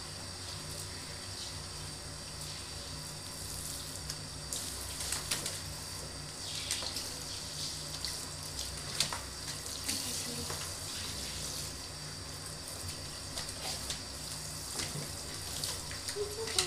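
Tap water runs steadily while a small dog is bathed, a continuous close splashing stream with small clinks and faint bird sounds in the background.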